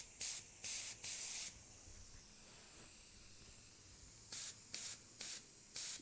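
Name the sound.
spray painting the face of a goddess statue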